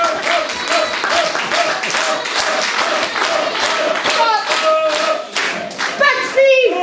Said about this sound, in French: il faut vraiment applaudir l'artiste suivant